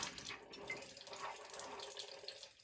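A tap fed by a garden hose runs with low water pressure, giving a faint, steady splashing trickle with a few scattered drips and no talking.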